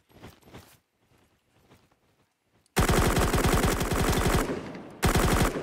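Rapid automatic gunfire in the Roblox shooter Bad Business, loud bursts of fast repeated shots that start abruptly after a quieter stretch of faint game noise, with a short break before a final burst.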